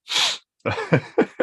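A single sharp sneeze, followed by a brief spoken response close by.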